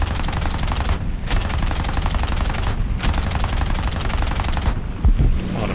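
Machine gun fire from a Ro.44 floatplane in War Thunder air arcade combat, rapid continuous bursts in three long strings with short gaps, loud and close over steady engine drone, no talk.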